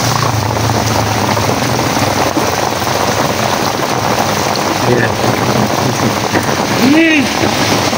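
Heavy rain pours down steadily, a dense unbroken hiss of drops on surfaces throughout, with a brief whistling or squeaking sound near the end.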